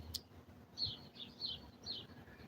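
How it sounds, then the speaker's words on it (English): Birds chirp outdoors in faint, scattered, high tweets that recur every half second or so over a low ambient hum, with no talk. "Hear all the birds around us."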